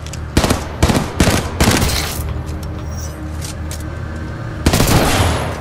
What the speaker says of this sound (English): Burst gun.